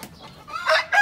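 A rooster from a fighting line bred with a Bombay hen crows once, briefly and fairly close, with no other sounds around it.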